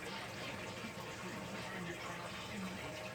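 Beef broth poured over beans for scratch-made baked beans, a steady liquid pour with continuous splashing that stays even and fairly loud throughout.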